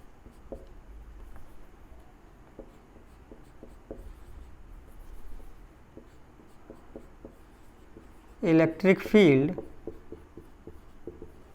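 Chalk or marker scratching on a board during an electric field lesson, faint rhythmic strokes for most of the stretch, then a louder burst of quick writing near the end; someone speaks softly throughout.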